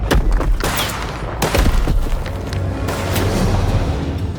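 Gunfire in the video game Mafia: The Old Country, loud sharp bursts of shots cracking out in quick clusters, with booming reports and echoing tails between volleys.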